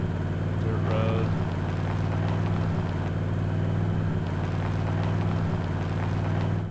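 A basic car engine sound template built in FMOD plays as a continuous, layered droning rumble with steady harmonic tones, moderately quiet, throughout.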